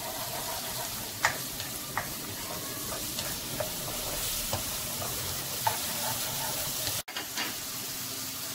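Ginger garlic paste fries in a pan with a steady, close sizzle, broken by occasional soft scrapes and taps of a stirring utensil and a brief dropout near the end.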